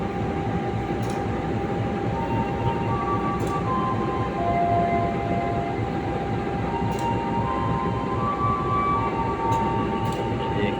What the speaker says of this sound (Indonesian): Kereta api Turangga bakal melintas langsung di stasiun Sragen ya, yang melintas di jalur 2.